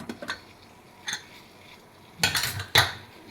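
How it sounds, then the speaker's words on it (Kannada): Metal pots and utensils clank around a pressure cooker while kara pongal is cooked, with a few scattered close knocks and a brief louder rattle near the end. "ಕುಕ್ಕರ್ ಲಿಡ್ ಓಪನ್ ಮಾಡಿ ನೋಡಿ."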